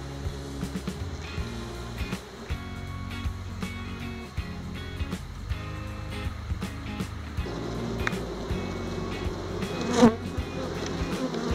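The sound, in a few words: honey bees buzzing at an open beehive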